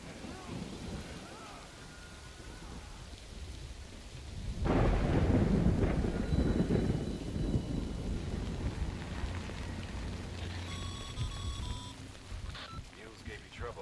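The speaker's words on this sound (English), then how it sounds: "Good thing it was raining." Rain patters under a low thunder rumble in the video game Death Stranding, quiet at first, then swelling into a heavy roll of thunder and downpour that lingers, with a voice talking over part of it.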